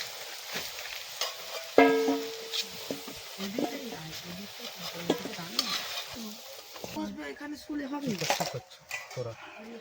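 Eggs frying in a pan at a rainy forest campsite, seasoned with a little salt and turmeric: a steady close sizzle runs throughout with occasional utensil clinks, under intermittent talk.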